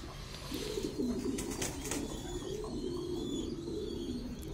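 Pigeons coo steadily at a pigeon farm, low rolling calls repeating one after another over a constant background hum, with a few faint chirps mixed in.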